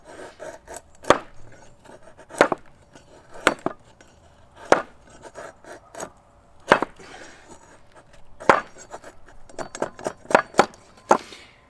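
A Work Tuff Gear Night Hunter knife chopping chunks from wood, giving about a dozen sharp, close, irregularly spaced chops with light scraping between strikes, no speech.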